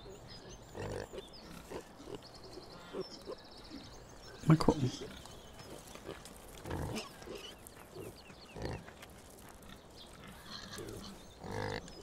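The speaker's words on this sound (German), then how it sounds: "Die Geisterschweine, die grunzen." Pigs grunt in a pigsty in Landwirtschafts-Simulator 17, a farming video game, with a few short grunts scattered under someone speaking German and one louder burst near the middle.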